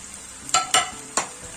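Boiled potatoes are tossed with softened tomato in a pan for a crispy hotel-style potato fry, giving three quick, close stirring scrapes over a soft sizzle, with no voices.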